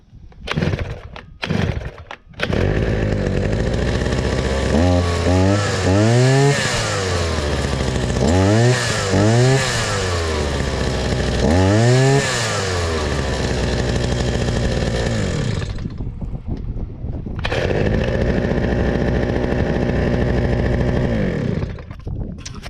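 A petrol grass trimmer with a new carburetor, starting with a few short pulls, then running loud and close with repeated throttle revs rising and falling before settling to a steady drone and cutting out.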